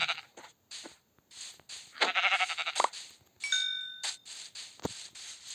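Several short sheep bleats sound in quick succession in Minecraft, with a few bright chime-like dings mixed in and brief pauses between.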